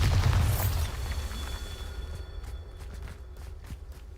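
A Bombarda spell explosion in Hogwarts Legacy, a low booming burst at the start that rumbles and fades over a few seconds, followed by quiet footsteps.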